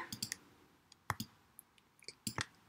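Sharp mouse clicks from a computer mouse during Illustrator drawing work, a few quick single clicks followed by close pairs, near and fairly quiet against a faint background.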